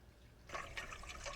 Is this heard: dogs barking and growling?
no